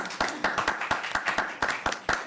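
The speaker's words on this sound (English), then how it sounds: "Everyone can clap." A small audience at a city candidates forum claps in a sparse, uneven patter of distinct hand claps, close and moderately loud, for a couple of seconds.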